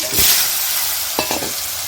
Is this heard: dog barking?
no